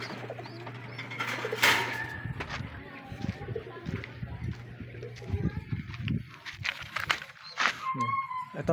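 Young pigeons, newly fledged, cooing in a loft, with soft low coos, wing flutters and scattered clicks and scuffs nearby; a person talks intermittently.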